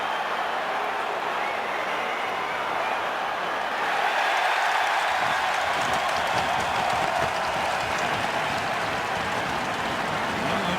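A hockey arena crowd at a Dallas Stars versus New York Rangers game swells into a roaring, sustained cheer as players fight, the noise growing louder midway and holding steady.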